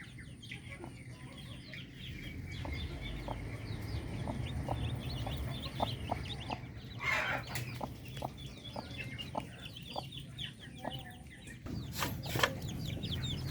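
Darag native Filipino chickens clucking in a backyard flock, a steady run of short, rhythmic clucks close by over a low rumbling background, with a brief louder burst of calls near the end.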